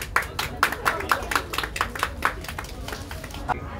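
An audience claps for a winner at a dance reel competition announcement, a fairly even run of claps at a quick, regular pace close by, fading slightly toward the end, with a voice faintly present underneath.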